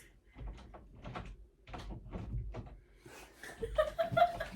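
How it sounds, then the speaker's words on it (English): A door is unlocked and opened nearby with a series of knocks, rattles and clunks in uneven bursts, followed by brief laughter. "Opening the door"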